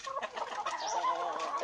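Hens cluck in a soft, busy chatter, faint and brief, in a poultry yard around feeding time.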